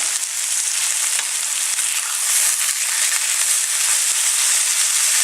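A steak sizzles hard in a hot pan, a loud, dense, hissing fry that stays constant and close, with slight surges as the meat is turned.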